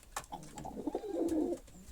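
A young homing pigeon in a Polish breeding loft cooing softly, a low throaty murmur rising into a longer rolling coo near the end, close but quiet with faint background noise.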